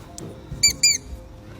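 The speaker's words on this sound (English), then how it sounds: "Oh my God, with the squeak toy." A squeak toy gives two sharp, high squeaks in quick succession during a rescue of a sedated animal, close and loud over low background rumble.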